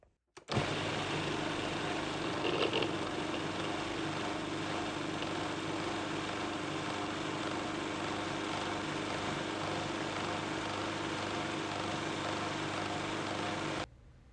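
A blender whirs continuously for about thirteen seconds, mixing butternut squash pesto, with a steady, loud motor drone that starts abruptly and cuts off near the end.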